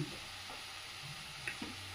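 Vegetables, already softened by boiling, fry in a pan as they are stirred, giving a steady low sizzle broken by a few scraping stir sounds.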